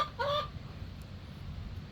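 Chickens in their coop on a rural farm after a hurricane give a short burst of clucking near the start, then fall quiet over faint low background noise.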